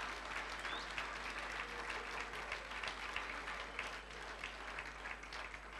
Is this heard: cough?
no